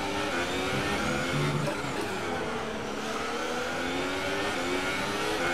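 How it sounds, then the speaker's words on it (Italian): Formula 1 cars in the racing game F1 2018 roar steadily at high revs at the Mexico Grand Prix, a dense continuous engine drone with shifting pitch and no pauses. "i motori qua non possono mancare signori"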